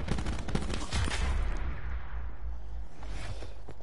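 Rapid bursts of gunfire from Call of Duty Black Ops 4, loud and dense at first with overlapping shots, then thinning into scattered cracks and a fading tail.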